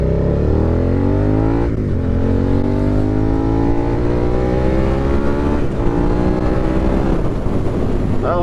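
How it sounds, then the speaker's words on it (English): A Suzuki SV650 motorcycle accelerating hard on the street, its engine loud and close, rising in pitch through the gears with two brief dips at the shifts, and no talking. "That was a nice little third throttle. This thing actually accelerates really quick"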